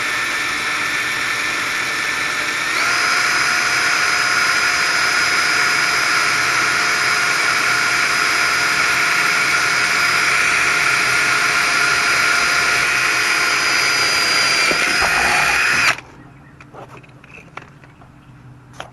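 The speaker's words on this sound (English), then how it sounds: "drill that one out very slowly. It is stainless, it's hard, it's not going to want to go through" A power drill fitted with a starter bit bores slowly into hard stainless steel for a boat hook, its motor whining steadily and loudly for about fifteen seconds before stopping abruptly into quiet room noise.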